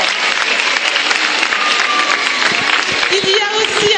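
A roomful of people applauds a director at a foundation gathering: a thick, even wash of clapping, fairly close and loud, with some voices and cheers blended in.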